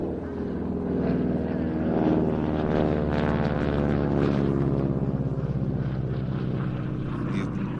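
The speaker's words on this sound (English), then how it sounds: "you'll hear this rasping sound coming from the Harvard. It's the tip of the propeller, not the engine making funny noises." Harvard T6 propeller aircraft passing at an air show, a loud sustained droning engine with a rasping, buzzing propeller-tip tone that swells and holds steady throughout, with people talking faintly underneath.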